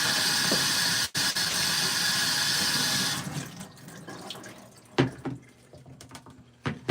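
Water gushes steadily onto the convertible top of a 1968 Le Mans for about three seconds, then stops, leaving scattered drips, splashes and light handling sounds close by.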